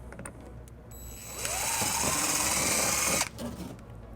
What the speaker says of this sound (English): then we'll drill our first hole